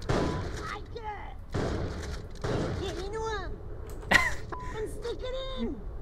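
Gunfire from the talking Boganella gun in the video game Borderlands: The Pre-Sequel comes as several repeated shots, each with a sharp crack, mixed with the weapon's chattering voice-like tones and whistling game effects.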